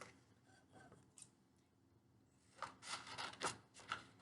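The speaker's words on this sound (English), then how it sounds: "I'm going to cut these down the middle." Scissors cutting paper cards down the middle, a quiet start followed by a run of crisp, close snips and paper rustle over about two seconds, with no talking.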